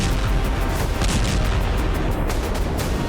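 Explosions from a Russian attack on Kyiv, Ukraine, heard as a dense, continuous low rumbling roar with repeated booming bursts, loud and distant-sounding throughout.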